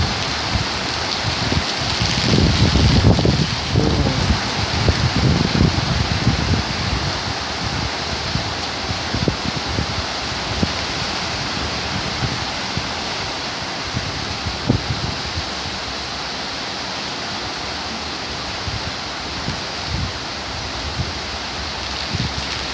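Torrential tropical rain pours with strong wind gusts reaching 55-60 km/h, a loud, steady broadband roar of rain and wind that swells in the first few seconds, then continues at a constant level throughout.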